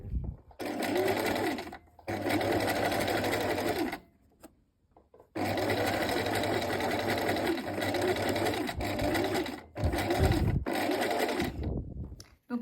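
Sewing machine stitching in the groove of a shorts waistband at a lengthened stitch, a loud close whirring run that stops briefly a few times, then starts again.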